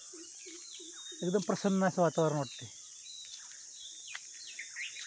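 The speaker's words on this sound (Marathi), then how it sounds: "पक्ष्यांचा कसा किलबिलाट येतोय" Birds chirp faintly on an early Konkan morning in rural Maharashtra, a few short repeated calls over a steady insect-like hiss, while someone speaks briefly in the middle.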